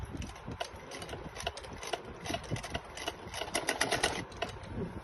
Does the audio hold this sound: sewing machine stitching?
yes